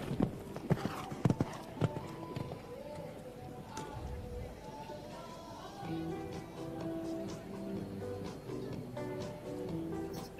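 A show-jumping horse's hooves thud down after clearing a fence at a Grand Prix in Sopot, Poland, giving a few sharp hoof impacts early on, followed by a steadier rumble with crowd and commentary noise underneath.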